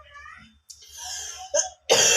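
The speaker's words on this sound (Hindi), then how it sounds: "सर्दी की वजह से खांसी बहुत ज्यादा हो रही है" Several harsh coughs and throat-clearing from a man with a cold, broken up by short raspy breaths, close and loud, ending in a forceful burst.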